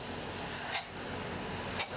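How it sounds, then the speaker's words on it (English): Closed cell spray foam insulation being sprayed to seal the top of inside walls above a garage, a steady close hiss running throughout with two brief louder bursts. "We're spraying a little bit of foam to seal the top of the inside walls"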